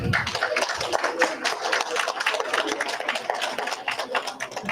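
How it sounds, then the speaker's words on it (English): An audience at an annual award ceremony dinner claps in sustained applause, a dense, lively patter of many hands filling the room at close range for several seconds. "Can we get another round of applause for Brother Sajan?"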